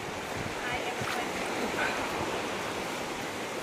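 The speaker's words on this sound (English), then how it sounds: "The creek is wild, isn't it?" Rushing water in a swollen wild creek makes a continuous broadband roar, with wind buffeting the microphone and faint voices in the background.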